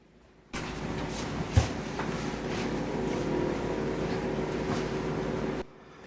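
Steady whirring hum of the freezer fan in an LG LMXS30776D refrigerator, a continuous mid-loud drone that starts abruptly and cuts off near the end, with one brief knock early on.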